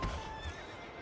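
A horse whinnies briefly in the medieval city-building game Manor Lords, a short high neigh over soft game ambience with a faint thud of hooves.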